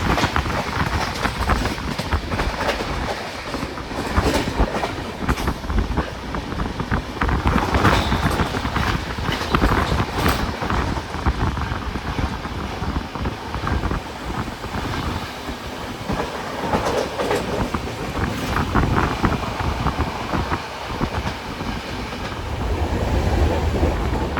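Shantiniketan Superfast Express running at speed on a long curve near Bally, a steady loud roar of wheels and rail with rhythmic clickety-clack over joints, continuous throughout with no talk.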